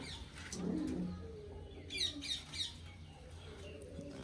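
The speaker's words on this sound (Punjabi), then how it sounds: "ਸਭ ਤੋਂ ਪਹਿਲਾਂ ਆ ਬੈਠੇ ਆਪਣੇ ਵੱਡੇ ਕਬੂਤਰ" Soft, low pigeon coos close by, followed by a few short higher chirps, in an otherwise quiet setting.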